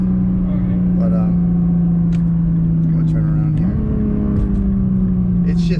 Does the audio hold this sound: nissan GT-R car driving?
yes